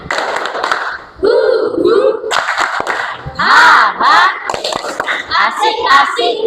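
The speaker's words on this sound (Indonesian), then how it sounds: "kita tepuk tangan dulu buat semuanya. Ya, kurang semangat, tepuk semangat" Schoolchildren in a classroom perform a rhythmic spirit clap, bursts of patterned clapping mixed with loud chanted shouts and excited young voices, lively and close.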